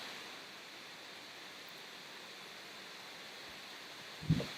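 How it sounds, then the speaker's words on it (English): Laptop fan hissing during a music livestream, a faint, even broadband whoosh holding steady throughout, broken only by a brief soft knock near the end. "in case you're hearing any hissing in the background, that would be my laptop"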